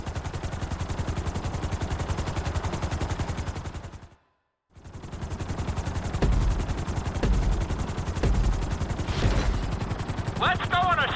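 Helicopter in the video game GTA V flight school, a loud steady rotor chop pulsing rapidly, cutting out briefly to silence and then resuming with some thuds and a faint electronic beep near the end, while a voice speaks over it.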